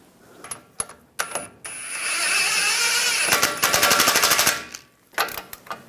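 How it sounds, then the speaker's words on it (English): Ball joint nut on a 2011-2018 Ram 1500 front suspension being tightened, likely with an impact tool: a few sharp clicks, then a sustained whirring rattle with rapid hammering bursts, close and loud, with more clicks to finish and no talk. "tighten that nut."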